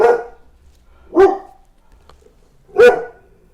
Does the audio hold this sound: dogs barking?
yes